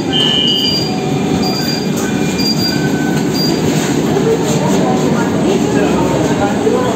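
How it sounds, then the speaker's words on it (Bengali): A Kolkata metro train runs into Dakshineswar station with a loud, continuous rumble and roar, faint wheel squeal and some rail clatter close at hand. "আমরা এখন আসছি দক্ষিণেশ্বর মেট্রো স্টেশনে"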